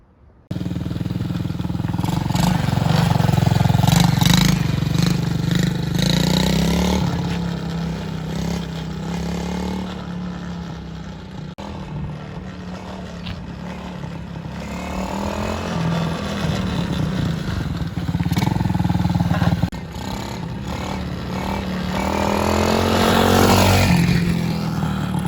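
A small Chinese TaoTao kids' quad's engine buzzes and revs throughout a ride, rising and falling with throttle, close and fairly loud, with occasional rattles and scrapes.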